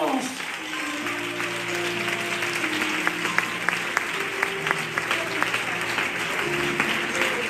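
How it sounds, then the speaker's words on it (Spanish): A church congregation claps together, a sustained loud round of applause over organ-like held chords and sharp rhythmic claps standing out, with voices mixed in. "Un aplauso para Dios."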